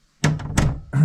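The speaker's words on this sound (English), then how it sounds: "Let's close the door" A door on a boat swings shut with a solid close-by thunk and a short rattle, followed by another knock a moment later.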